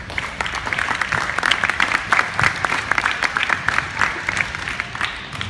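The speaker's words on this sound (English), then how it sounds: "This gives all a big round of applause." Round of applause from a group at a futsal coaching course event, steady dense clapping lasting throughout at moderate loudness.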